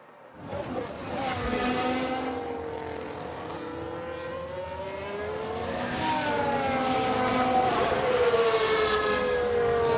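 Formula One race cars from 1992, including a Jordan and a Ferrari, whine past in F1 Manager 22 as a tyre locks up under braking. Overlapping engine notes sweep up and down continuously and grow louder toward the end.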